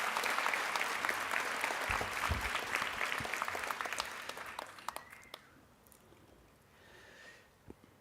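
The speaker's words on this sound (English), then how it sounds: "let's hear a round of applause for the parents and loved ones" Commencement audience applauding graduates' parents and loved ones, a broad, dense burst of clapping that stays strong for several seconds, then thins into scattered claps and fades, with a few sniffs and small noises near the end.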